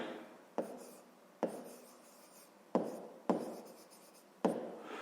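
Pen strokes scratch across paper while working out a grade 5 maths word problem, a few soft rubbing bursts with short pauses between them, close and quiet with no talking.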